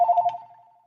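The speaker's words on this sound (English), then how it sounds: "That's the trouble with having a house phone right behind your computer." A house telephone sitting right behind a computer rings once, a close, bright electronic trill that cuts off and fades out within a second.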